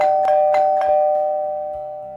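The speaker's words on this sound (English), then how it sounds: "2 days later, when I was at home with Henry, the doorbell rang." A home doorbell rings three quick chimes in succession, then a lower ding-dong tone that fades out, clear and close with no other sounds.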